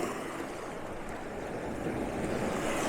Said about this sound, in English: So this is the waves coming in there now.